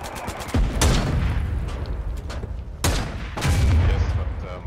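Gunfire in the war video game Foxhole: sharp, loud shots and heavier booming blasts crack out irregularly over a constant rumbling battlefield din, close and intense.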